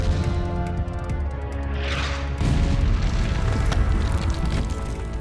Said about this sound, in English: The gunners ramp up their shelling of the already weakened parts of the fortress.